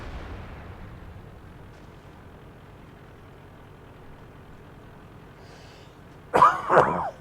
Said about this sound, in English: so still coughing and hacking and wheezing